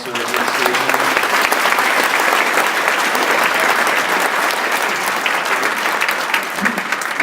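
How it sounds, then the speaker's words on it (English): A large audience at a middle school band concert applauds steadily and loudly throughout, a dense wash of clapping that holds its level from start to finish. "give a round of applause for our administration"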